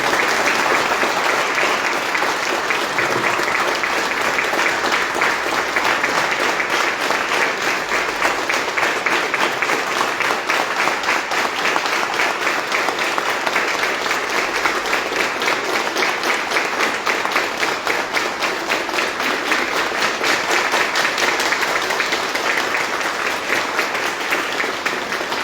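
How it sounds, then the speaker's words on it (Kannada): A crowd at a Rotary Tumakuru Prerana talk by Dr. Lokesh Babu claps without a break. The applause is dense and loud and holds at an even level from start to finish. "45 ಸೆಕೆಂಡ್ಸ್ ನಾನ್ ಸ್ಟಾಪ್ ಚಪ್ಪಾಳೆ ತಟ್ಬೋದಾ ಸರ್ಗೋಸ್ಕರ ಮತ್ತೆ ನಮಗೋಸ್ಕರ?"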